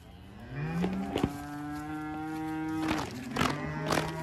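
Cattle moo repeatedly at close range on a working farm, several long, low drawn-out calls overlapping one another with a few sharp knocks between them.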